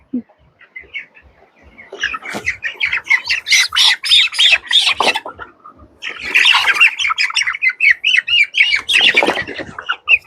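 23-day-old chickens squawk loudly in frantic bursts while being caught, flapping and scuffling nearby, with short pauses between outbursts and some voices mixed in.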